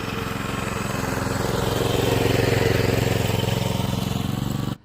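A John Deere greensmower engine runs loud and close with a steady, throbbing putter, then cuts off abruptly at the end.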